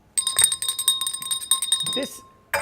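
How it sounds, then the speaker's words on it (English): A bell rings in rapid repeated dings for about two seconds, mixed with talking voices, then stops before a final burst. "I know, I gotta get your bell fixed."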